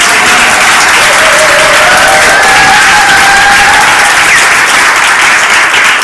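An audience at a business success seminar breaks into loud, continuous clapping, with a few faint whistles or cheers rising through the steady applause.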